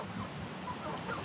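Backyard chickens cluck in a low, steady murmur, with several birds close together making soft, continuous calls and no voices.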